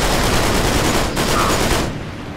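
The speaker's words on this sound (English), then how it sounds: "This slow yet powerful gun." Sustained rapid gunfire from a slow but powerful heavy gun in Uncharted 3: Drake's Deception, a dense continuous burst of shots at close range that thins out near the end.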